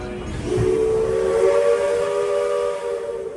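A single long steam locomotive whistle on the Walt Disney World Railroad at Magic Kingdom blows steadily for about three seconds, loud and close, with a faint hiss beneath.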